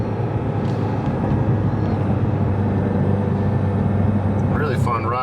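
A Ford Shelby GT350 two-door with its 5.2-liter V8 holds a steady, close, rumbling drone for several seconds, and a short voice cuts in near the end.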